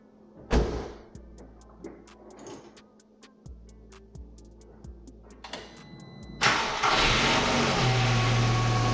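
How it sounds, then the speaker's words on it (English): A VW MK4 2.0 Jetta/Golf engine, just fitted with new coil packs, is heard after a few faint clicks and ticks: the starter cranks and the engine catches, then settles into a steady, close idle. "we're going to do a test fire to see if everything's running correctly"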